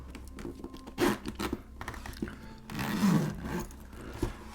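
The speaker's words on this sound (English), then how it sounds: "So open the zipper" The zipper on a SendyAudio Peacock headphone case is pulled open in two short rasping bursts, fairly quiet and close, with small rustles between them.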